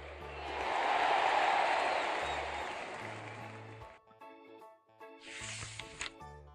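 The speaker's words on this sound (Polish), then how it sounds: "Panie i panowie, brawa dla Merkurego." Applause and light cheering from a cartoon crowd for Mercury winning a race in a children's planet game, a swelling burst of clapping that fades out, followed by short bright game chimes.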